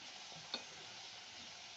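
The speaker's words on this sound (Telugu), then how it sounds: "ఇప్పుడు కలుపుకుందామండి, బాగా కలుపుకోవాలి" Tomato, broad bean and potato gravy is stirred in a pan, a faint, steady simmering hiss broken by two light spoon clicks against the pan.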